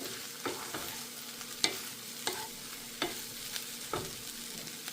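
Precooked jasmine rice heated in a pan and stirred, with regular spatula scrapes about every half second over a constant low sizzle, close by and free of speech.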